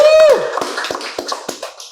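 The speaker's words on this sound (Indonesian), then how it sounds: "Wow, tepuk tangan dong Mathias Muchus." Claps ring out in a studio for actor Mathias Muchus, coming as a string of distinct close hand claps just after a brief voice, loud and irregular in rhythm.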